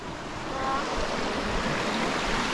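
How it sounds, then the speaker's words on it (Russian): Steady broadband rush of a stream flowing through a mountain gorge near a village in the Gelendzhik area on the way to a waterfall, continuous and fairly loud with no talk. "Здесь шум воды уже более сильнее, значит, мы почти подошли."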